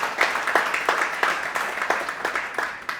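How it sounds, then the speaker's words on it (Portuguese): People in a masterclass audience clap in a fairly close, uneven round of applause. Individual hand claps stand out as sharp rhythmic hits over a few seconds of steady clapping. "Quem pode dar um aplauso?"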